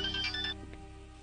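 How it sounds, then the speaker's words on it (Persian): A mobile phone ringtone plays a bright electronic melody of rising and falling tones for about half a second, then breaks off into a couple of faint blips over a low steady hum. "صدای تلفن است. این تلفن من است."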